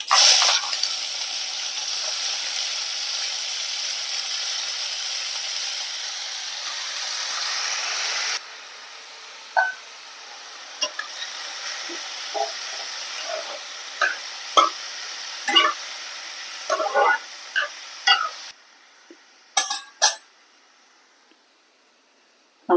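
Chopped long beans and carrot pieces hiss in a pan with mustard seeds and dried red chillies. A broad steady sizzle settles quieter after a few seconds, broken by scattered crackles and pops, with no talk.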